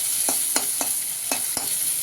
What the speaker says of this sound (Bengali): পেঁয়াজটা লাল লাল করে ভাজা হোক।